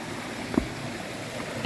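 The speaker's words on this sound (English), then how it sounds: "Passing a lot of great streams." A stream flowing along the Appalachian Trail during a hike, giving a steady, soft wash of running water with a couple of faint knocks, and no talking.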